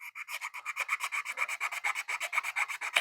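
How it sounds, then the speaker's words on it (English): Rapid, regular scraping strokes of sandpaper on a small hard plastic model starship part, close and steady, roughly two dozen short rasps in a row. "So we're just going to go ahead and just kind of sand that off."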